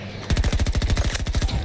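Rapid automatic gunfire from a video game played on Xbox, a fast continuous burst of shots lasting over a second, loud and close.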